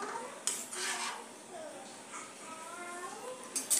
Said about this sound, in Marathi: तर आता हे सर्व मिक्स करून घेऊया